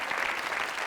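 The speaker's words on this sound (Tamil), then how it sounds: "அதுக்காக நீங்கள் எல்லாம் கைத்தட்டி ஆகணும் இப்போ" Studio audience on a Tamil TV game show bursting into brief, dense applause, steady clapping with no voices over it.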